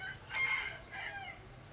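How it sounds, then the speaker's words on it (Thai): A rooster crows twice in fairly quick succession at six in the morning in Rak Thai village, Mae Hong Son, Thailand, the calls clear but somewhat distant against a quiet morning background. "ฟังเสียงไก่ขันนะครับ"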